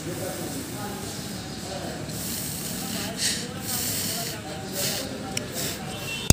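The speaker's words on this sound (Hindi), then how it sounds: "क्योंकि ये इलेक्ट्रिक स्प्रे है," Electrical contact cleaner sprays onto the electronic accelerator pedal of a Tata Tiago, giving short, close hissing bursts between stretches of someone talking.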